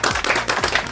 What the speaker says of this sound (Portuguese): Por favor, editor, palmas para a Isabela.